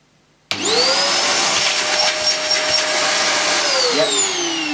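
An Electrolux The Professional upright vacuum cleaner switched to hose suction kicks on after a brief silence, then holds a loud, steady motor whine with airflow hiss close by.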